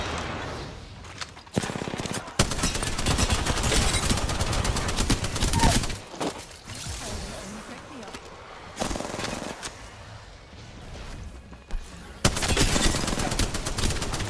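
Bursts of rapid automatic gunfire rattle through a shooter video game, loud and dense, broken by brief pauses between volleys.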